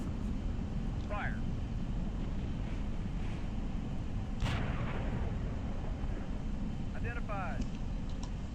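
A single tank gun shot in Steel Beasts Pro thumps once, fairly muffled and distant, beneath radio chatter and voices over a constant low engine rumble.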